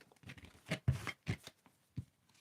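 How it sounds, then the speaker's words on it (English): A tarot deck is shuffled up close in a few quick, crisp riffling bursts with short pauses between them, moderately loud in a quiet room. "let's just shuffle the deck up"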